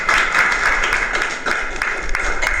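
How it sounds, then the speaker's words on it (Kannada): An audience at an evening bhajan and jagaran at an ashram claps in a steady, rhythmic unison beat, fairly loud and sustained, with no one talking over it. "ಚಪ್ಪಾಳೆ ಹೊಡ್ರಿ, ಜಮಾಯಿಸ್ಬಿಡಿ."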